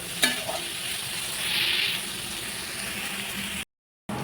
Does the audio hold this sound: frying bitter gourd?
yes